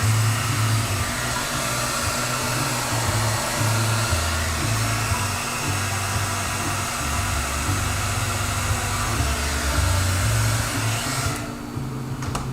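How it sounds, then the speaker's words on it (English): A blow dryer runs steadily for several seconds to dry airbrushed paint on a flame and flag design, a loud, continuous whooshing hum that cuts off at the end; no talk. "Give it just a little bit of blow dryer."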